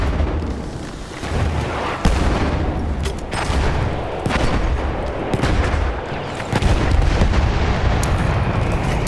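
Battlefield 1 combat with a thrown grenade: dense, loud battlefield din of booming blasts and rattling gunfire, with several sharp impacts standing out from a constant roar.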